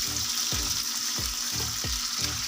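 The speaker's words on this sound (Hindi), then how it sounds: "सबसे पहले हम ऑयल में चिकन फ्राई करेंगे।" Chicken fries in oil with ginger garlic paste for chicken karahi, a steady loud sizzle broken by regular scraping thumps of a spoon stirring about every two-thirds of a second.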